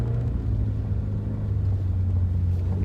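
A Toyota FRS drifting on snow, its engine throttle held in a loud, close, steady low rumble with slight swells as the throttle is eased on and off.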